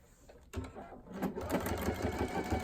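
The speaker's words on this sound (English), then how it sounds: "I'm going to start stitching right on the edge of the quilt and do my 1/4 inch" A sewing machine stitches binding along the edge of a quilt, starting abruptly after a brief quiet moment and then running in a steady, close, continuous whir with a rapid needle rhythm.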